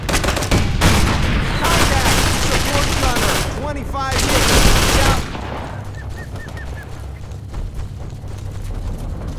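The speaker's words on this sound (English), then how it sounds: "gunshots feel louder, explosions sound more muffled if they're happening outside" Dense bursts of rapid gunfire in the video game Operation Flashpoint: Dragon Rising crackle and pop in quick succession, loud at first, then continuing more distantly under a low rumble.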